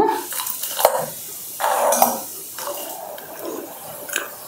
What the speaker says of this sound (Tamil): கொஞ்சம் நல்லா வந்து இந்த மாதிரி அடிக்கடி வந்து கிளறி விட்டுக்கோங்க